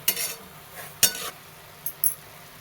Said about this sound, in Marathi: हलक्या हातानं हलून घ्यायची भाजीला